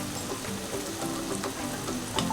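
Spice paste sizzles steadily in a hot pan while being stirred and mixed, a dense continuous frying hiss with small scrapes and one sharper clatter near the end, close and alone with no talking.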